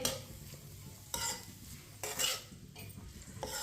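Onions stirred in a pan over a medium flame, with a few distinct scraping strokes of a utensil against the metal at intervals over a soft background sizzle.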